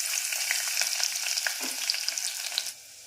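Onion fries in ghee over a tempering of spices, a bright, hissing sizzle heard close and quiet that crackles steadily and then cuts off near the end, with no talk.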